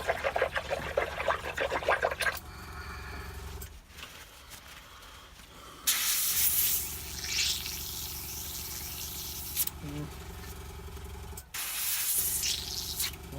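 An airbrush clears varnish out of its nozzle while a Blacksmith miniatures Red Cap figure is painted, making bursts of close, steady spray hiss that stop and restart several times.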